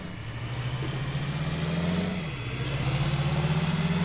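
A tractor engine in a farming simulation game drones steadily at a low, even pitch throughout, dipping briefly midway before settling back, fairly loud and continuous with no talking.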